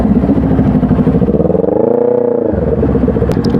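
A Yamaha R3 sport motorcycle on a street in San Carlos City: a loud, close engine idles roughly, then revs up into a smooth rising-and-falling whine before settling back to its throbbing idle.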